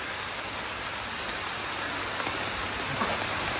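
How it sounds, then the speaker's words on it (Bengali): Steady rain pours down outside on a rainy day, a dense, even hiss of falling water with no talk over it. "দেখ কিরকম বৃষ্টি"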